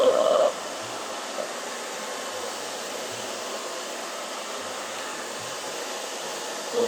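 Hair dryer blow-drying a short undercut pixie haircut, a steady close whooshing blow that runs continuously, slightly louder at the start and again briefly near the end.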